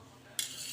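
A spoon stirring a peanut mixture with ghee in a pan, a faint quiet stretch broken by a sudden soft sizzle and scrape that carries on briefly, close and alone without voices.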